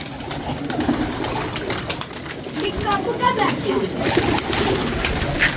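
Pigeons coo softly in a busy outdoor spot, their low warbling calls mixed with steady background noise and a bit of chatter.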